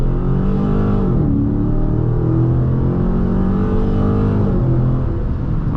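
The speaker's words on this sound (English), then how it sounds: "Let's do a little acceleration," Dodge Challenger Scat Pack T/A with the 392 V8 accelerating on the road, a loud, steady engine roar that climbs in pitch, dips briefly around a shift and climbs again, with no voices.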